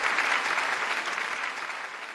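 Warm audience applause at a Suzhou Pingtan storytelling performance, a dense steady wash of clapping from a crowd that holds throughout and tapers slightly at the end.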